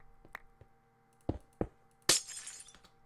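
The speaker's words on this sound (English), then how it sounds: "It makes that glass break sound every time you go on the glass." Glass-breaking effects from the video game Life in the Woods: a few short sharp clinks and cracks, then a louder shattering burst that trails off, over a quiet background hum.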